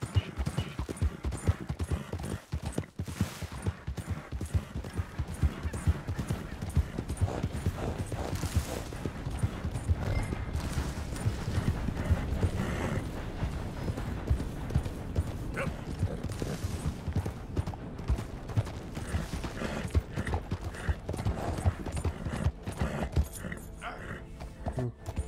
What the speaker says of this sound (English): Cavalo bom esse, viu?